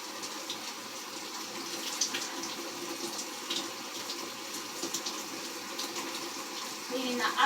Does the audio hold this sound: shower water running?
yes